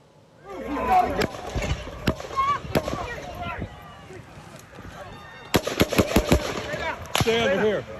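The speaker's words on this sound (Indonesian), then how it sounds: "Salah satunya merekam 5 kali suara tembakan." Several sharp, loud gunshots ring out at the Trump rally shooting, fired from a rooftop about 120 meters away, a few spaced apart early on, then a rapid cluster of about five, with people shouting and talking throughout.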